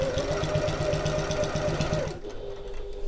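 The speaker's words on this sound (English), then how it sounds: "I'm using my regular construction stitch length and I'm back stitching" Close, loud sewing machine back stitching a pocket seam at regular construction stitch length, a fast even stitching chatter that stops about two-thirds through, leaving a quieter motor hum.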